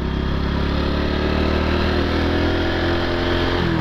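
A Honda Pop 110 motorcycle engine drones loud and close, holding a steady buzzing note as it shifts gear and pulls away under acceleration, with no talk.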